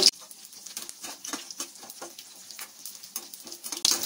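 Curry leaves and garlic cloves fry in hot tempering oil with a steady close sizzle and scattered crackling pops, with occasional stirring; no voices.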